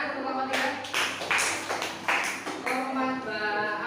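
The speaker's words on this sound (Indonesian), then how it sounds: "Tepuk tangan untuk kelompok 3." Students in a classroom clap for a student group in several short bursts of applause, close and moderately loud, with talking in between.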